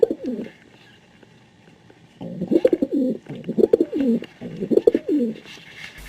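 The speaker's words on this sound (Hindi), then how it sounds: "छत के ऊपर कबूतर बहुत धीमे स्वर में गुटरगू कर रहे थे।" Pigeons coo softly on a rooftop in three or four low, throaty bursts that repeat at a steady pace after a quiet opening, close by and mellow, with no voices.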